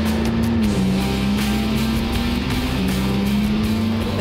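A McLaren MP4-12C road car's turbocharged engine drones loudly and steadily at close range, its pitch dipping briefly and then climbing slowly across the few seconds.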